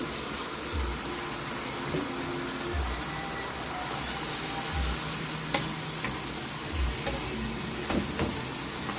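Pancit noodles being stir-fried in a pan with oyster sauce give a steady close sizzle and frying hiss. A spatula scrapes and stirs at a slow regular rhythm, with a few sharp clicks.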